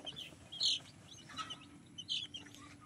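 A baby chick makes a few faint high peeps and soft clucks at close range over a low background murmur, with short calls spaced irregularly.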